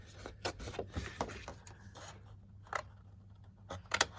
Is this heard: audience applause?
no